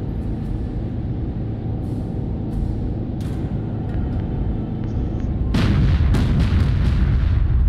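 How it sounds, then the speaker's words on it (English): Heavy naval guns pound the shore during a bombardment in the Battlestations Pacific game, a constant loud rumbling barrage that swells into heavier booming blasts toward the end. "Keep up the shore bombardment."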